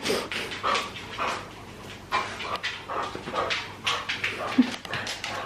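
Dogs whimper, pant and give small yips in excited bursts before going out for a walk at home, moderately close and fairly quiet, with no clear talk.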